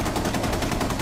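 Rapid automatic gunfire in a video game, a close, loud, evenly pulsing stream of shots with no break.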